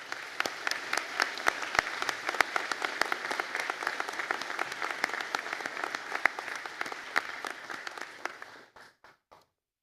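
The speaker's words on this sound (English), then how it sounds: "round of applause" Graduation ceremony audience applauds a forensic science class, a dense, even wash of many hands clapping for about nine seconds, then thinning to a few last claps and silence.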